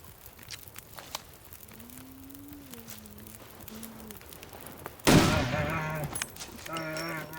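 Single sharp rifle shot in the survival game The Long Dark, a loud crack that rings out after a quiet stretch of ambient wind and low animal-like groans, with a decaying echo after it.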